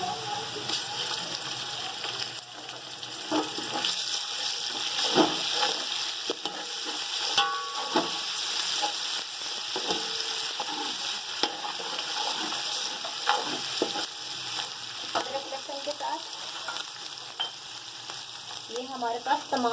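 Ginger, garlic and spices sizzle and fry in a pot of oil for chicken yakhni pulao, a steady crackling hiss with stirring scrapes and clinks throughout, a voice occasionally speaking over it.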